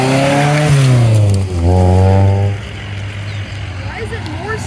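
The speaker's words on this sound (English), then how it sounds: "Oh, it's the McLaren. Lotus and a McLaren coming." A McLaren and a Lotus pull into an airport car meet, one loud engine note rising and dropping through revs before fading away, with people chatting nearby.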